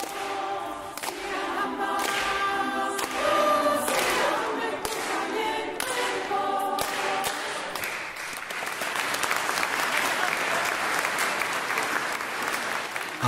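A church audience gives a standing ovation after a women's choir performance at the Church of St. John the Baptist in Skalná, sustained applause filling the room over a tonal musical tail early on, growing denser and steady toward the end.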